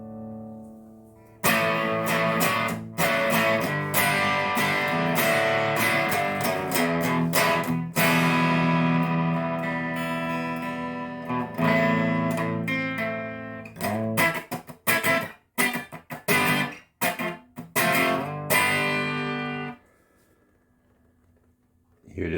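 An electric guitar played through a King of Tone overdrive pedal on a treble setting rings out loud and sustained with strummed chords, then turns to choppy staccato hits before falling silent near the end.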